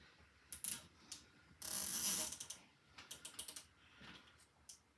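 A plastic zip tie pulled tight around the front of a 3D printer during installation of a 3D Chameleon filament changer, a quick ratcheting zip followed by scattered clicks and taps, close and alone.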